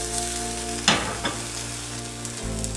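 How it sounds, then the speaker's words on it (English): Mushrooms sauté in a hot pan with a steady sizzle, broken by a sharp clatter and a second smaller knock from a utensil against the pan, while a low hum runs underneath. "and now we saute the mushrooms"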